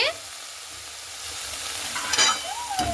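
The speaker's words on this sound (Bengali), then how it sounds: "শাকটাকে দিয়ে একটু ভালো মতো করে নাড়াচাড়া করে নেব" Fenugreek greens are stirred in a frying pan. A continuous sizzle runs under a few scraping strokes of a utensil against the pan near the end.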